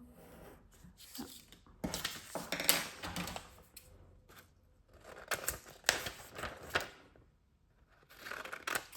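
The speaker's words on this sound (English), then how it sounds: "I'm going to cut a piece that will fit in here." Scissors cut a piece of paper for an autumn mini folio, a series of quiet snips and paper rustles in short bursts with pauses between them.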